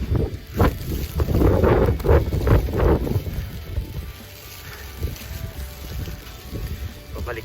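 Wind gusting across the microphone outdoors during a December snowstorm, a rough, fluttering rumble that swells and fades, with a person talking over part of it.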